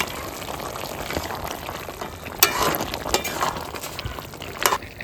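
Lentil dumplings (dal bori) fry in a pan of hot oil for a home-cooked Bengali vegetable dish, giving a continuous crackling sizzle with sharper pops and bursts near the middle and end.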